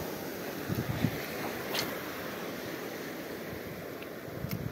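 Ocean waves wash against the shore during shore fishing, a soft continuous surf hiss with wind buffeting the microphone and a few low rumbling swells.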